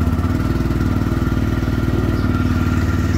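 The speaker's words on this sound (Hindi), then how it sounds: "फाइनली आप सभी देख सकते हो कि अपनी बाइक जो होगी है स्टार्ट हो चुकी है" A TVS Raider 125 motorcycle engine runs after starting, a loud, close, steady rapid putter with an even idle rhythm throughout and no talking.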